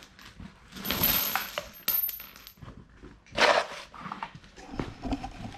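Metal nuts and bolts for a Kubota Land Pride snow plow clink and jingle as they are handled and dropped, in a few bright rattling bursts with small knocks between them.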